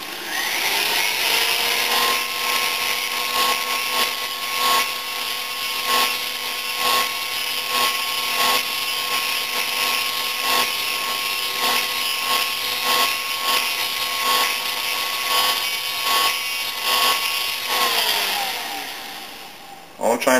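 A power grinder steadily whines against a burr on a metal Honda FL250 Odyssey engine part, leveling the surface near the thrust washer seat; the tool runs loud and continuous for about eighteen seconds, then winds down.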